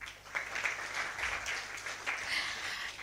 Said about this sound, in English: And a round of applause for our guests who are here.